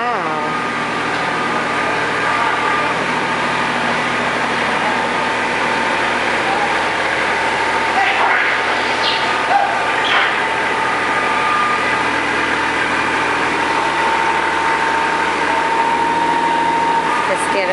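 A tractor engine idles steadily near oxen and steers for the whole stretch, a constant mid-pitched drone with faint knocks and a thin tonal whine over it, close and fairly loud.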